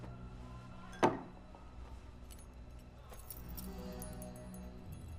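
Keys jangle in a single bright burst, a brief metallic rattle that quickly fades into a quiet background hum.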